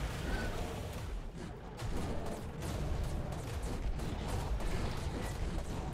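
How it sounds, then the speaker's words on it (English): Rocket barrage pounding the Ice Titan in Ark Survival Evolved: Extinction, a dense, continuous rumble of blasts and booms at steady loud volume for the whole stretch, with no pause between impacts. "Get him, rockets!"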